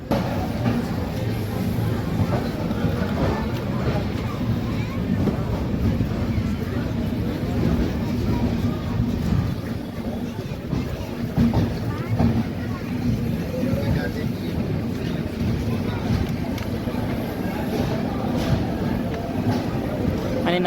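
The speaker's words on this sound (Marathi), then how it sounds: "9:41 आपली देवगिरी एक्सप्रेस हजूर साहेब नांदेड रेल्वे स्टेशनवरून निघालेली आहे." Steady rumbling run of the 17057 Devagiri Express after departing Hazur Sahib Nanded station, a continuous even drone heard from on board throughout, with no clear breaks.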